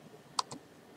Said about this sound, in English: type caps lock